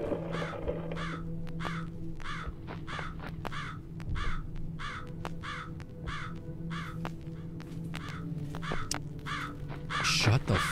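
A crow caws over and over in the Jisatsu found-footage Japanese horror game, about a dozen loud, evenly spaced harsh calls over a steady low background hum.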